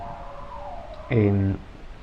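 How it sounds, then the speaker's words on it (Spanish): A siren outside a lecture setting rises briefly and fairly loud for about half a second, with a faint steady hum before and after it. "hay una sirena y me distrae un poco"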